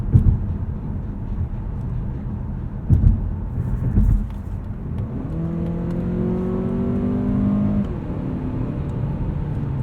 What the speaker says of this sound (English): See how quickly the car downshifts there.